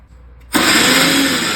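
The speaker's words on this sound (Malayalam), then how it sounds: "ഈ ഉണക്കക്കൊഞ്ചിട്ടൊന്ന് പൊടിച്ചെടുക്കാം." A mixer grinder grinding dried prawns for chutney: after a brief quiet moment, the motor kicks in abruptly and runs as a loud, steady, close whirring grind.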